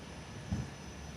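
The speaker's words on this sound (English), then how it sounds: "So Jetstar 71 is just taxiing on Sierra." A Jetstar airliner taxis at Perth Airport, heard as a faint, steady low engine rumble and broad whine at a distance, with one brief swell in the middle.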